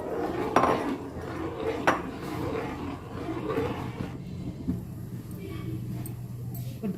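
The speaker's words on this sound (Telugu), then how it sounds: "ద్రాక్ష జ్యూస్ వేసుకుంటూ కలుపుకోవాలి." Grape juice being stirred into halwa in a pan for a sweet, a spoon scraping and clinking on the metal with a few sharper knocks, close, over a steady background hum.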